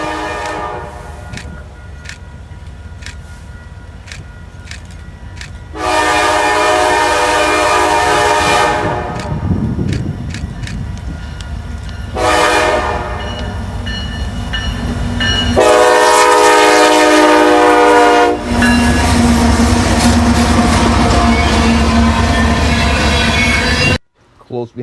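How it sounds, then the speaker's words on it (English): Westbound crude oil freight train led by a Norfolk Southern SD70ACe locomotive, its horn blowing in several long, loud blasts over the steady rumble and rolling of the passing train near a rail hotspot east side area. "a westbound crude oil comes into view with an NS SD70 ACC on point."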